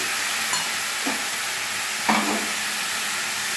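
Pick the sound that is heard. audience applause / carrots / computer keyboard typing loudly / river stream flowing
carrots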